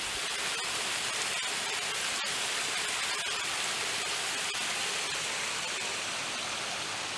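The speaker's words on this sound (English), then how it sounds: "My very first kind of waterfall." Steady rushing water from a small waterfall on a hiking trail roars without a break, a dense even wash of noise with a few faint clicks and taps scattered through it.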